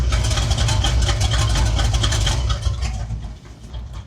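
A 1970 Chevy C20 truck engine running steadily after carburetor work, a dense continuous low rumble close by that eases slightly toward the end, with no talking over it.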